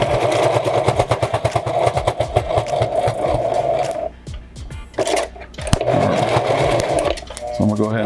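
A home sewing machine stitches an adjustable fabric mask, its rapid needle chatter running loud and steady, pausing briefly near the middle, then resuming before a short stop at the end while a voice talks faintly underneath.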